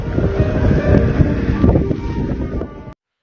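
Strong blizzard wind roars in steady, buffeting gusts against the microphone, loud and continuous for about three seconds before cutting off abruptly, with no voices.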